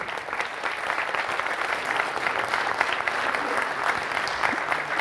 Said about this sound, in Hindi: मैं चाहता हूं कि आप जोरदार ताली से हमारे रंग निर्देशक संजय गर्ग सर का स्वागत करें।